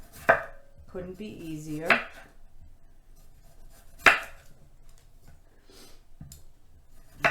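A knife slices food on a cutting board in a few sharp, isolated chops spaced seconds apart, close and crisp, with a brief spoken line between cuts.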